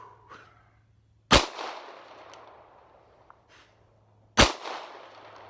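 A handgun is fired at a target during a shooting drill. Two sharp, loud shots about three seconds apart, each trailing into a short echo, with quiet between them.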